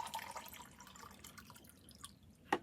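Water drips from an opened valve on an RV tank, with soft scattered trickling and a sharper drop near the end, faint and close, with no voices.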